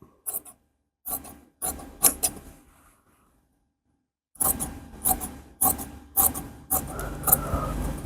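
Tailor's scissors cut cross patti fabric for a blouse, close-up crisp snips and rasping slides in short bursts, a pause of near silence midway, then a faster run of cuts.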